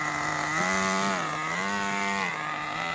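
A nitro RC car engine, started after long storage, runs at high revs with a loud, buzzy, close whine that rises and falls in pitch a few times over a steady drone.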